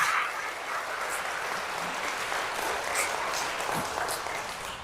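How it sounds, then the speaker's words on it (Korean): Audience clapping at a Catholic Holy Spirit seminar, a fairly distant, even round of many hands with a few louder claps standing out. "이분들에서 박수 한번 쳐주세요"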